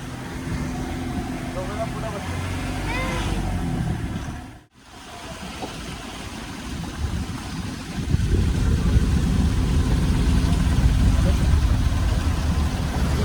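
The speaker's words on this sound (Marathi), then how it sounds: "निघालो आहोत गणपती घेऊन बघू शकता इथं टेम्पो मध्ये आम्ही परी पण आहे" A tempo truck carrying a large Ganesh idol for the festival hums along with a steady mid-pitched engine drone and road rumble. The drone dips briefly partway through, then grows louder and denser, and voices can be heard around it.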